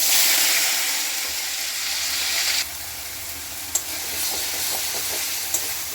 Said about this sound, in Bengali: এরপরে এই পেঁয়াজ, রসুন, আদা, লঙ্কার পেস্টটা দিয়ে দিচ্ছি।